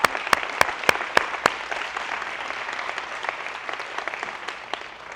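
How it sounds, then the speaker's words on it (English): Audience applause from a small group at a gym-business talk: a few loud, distinct claps up front, then a softer, continuous ripple of clapping that fades gradually. "Give a round of applause, you guys."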